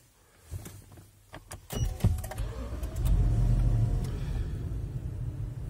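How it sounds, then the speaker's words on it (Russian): Lexus LX 570 engine starting in a workshop before hydraulic suspension service: a few clicks, then the starter catches at about two seconds and the engine settles into a steady, fairly loud low rumble. "Для начала автомобиль заводим."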